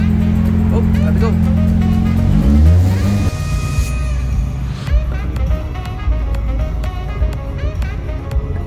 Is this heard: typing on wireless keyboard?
no